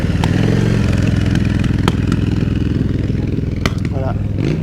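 A custom-built motorcycle pulls up at an outdoor bike festival, its engine rumbling loud and close with uneven revs and mechanical clatter, while voices and crowd chatter run beneath it.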